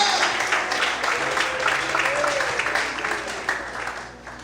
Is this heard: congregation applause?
yes